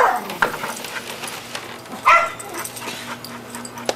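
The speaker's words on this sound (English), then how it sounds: "Don't mind my dog." A dog gives a few sharp yips and short barks mixed with whimpers at close range, over a quiet indoor hum.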